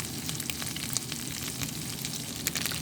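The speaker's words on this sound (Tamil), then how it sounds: "எல்லாம் நல்லா இதை வதக்கி கொள்ளலாம்" Onions and spices with kasuri methi sautéing in a pan for an egg crumble, a steady soft sizzle and frying crackle with faint stirring, quiet and continuous with no voices.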